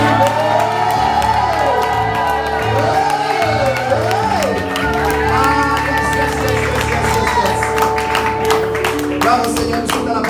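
A church congregation cheers and acclaims during worship, a dense crowd of raised voices and whoops with wavering sung tones, steady and loud throughout.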